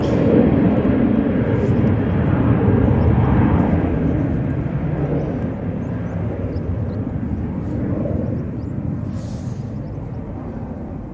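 An Etihad airliner flying from Dublin to Abu Dhabi roars steadily overhead, a broad low rumble that slowly fades slightly as it passes, with no voices.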